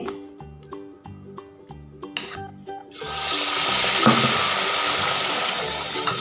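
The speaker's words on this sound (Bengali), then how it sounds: "ঠিক এইভাবে কিন্তু তেলে ছেড়ে দেবেন দেখুন এখানে কিন্তু আমি তিনটে করে চপ কিন্তু ভেজে নিচ্ছি" Potato chops (aloo chop) dropped into hot oil, starting with clinks and tapping handling sounds, then a loud continuous bubbling sizzle as they fry.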